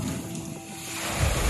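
Cyclone Amphan's storm waves crash against the shore and spill over a barrier about 8 feet high, giving a steady loud roar of surf and wind with a heavier surge of low rumble near the end.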